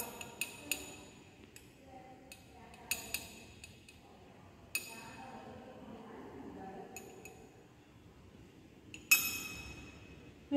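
A glass rod stirs potassium dichromate solution in a glass beaker holding sensitive electrodes, giving sparse, sharp clinks scattered irregularly over a quiet lab background, with one louder knock near the end.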